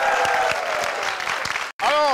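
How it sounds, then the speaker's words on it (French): A crowd applauds steadily with dense clapping, then the clapping cuts off briefly before resuming. "Acclamation pour vous encore."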